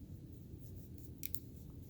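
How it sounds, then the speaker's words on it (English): Scissors snip crochet yarn while trimming a tassel, giving two quick, close, faint clicks against a quiet room hum. "you're gonna snip it with the scissors"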